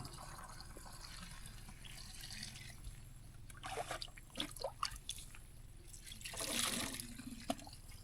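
Clear water is scooped from a spring and poured, with quiet trickles and drips that grow into a fuller splashing pour near the end, over faint outdoor background noise.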